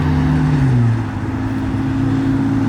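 A ruby red Ford GT500 rolls out of a car show, its engine giving a loud, close, steady drone with a low tone that drops slightly as it pulls away.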